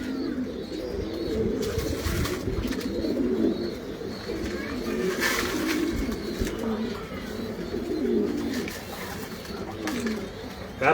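Pigeons at a pigeon farm coo continuously in overlapping, throaty rolls close to the listener, with a few faint sounds of background activity mixed in.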